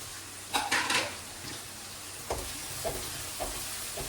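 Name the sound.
green chillies and onions sautéing in hot oil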